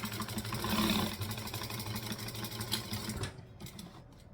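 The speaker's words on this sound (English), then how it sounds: "So I'm now going to stitch under this edge here, and that will stitch down both the fabric" A sewing machine runs steadily, stitching through fabric and waterproof canvas with a dense, fast mechanical whir. The whir continues for several seconds, then stops abruptly into near silence.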